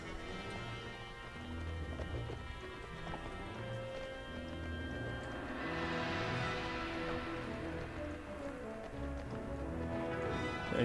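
Horse hooves clip-clop steadily in the medieval combat game Mount and Blade Warband, a continuous galloping patter mixed into dense game ambience and music.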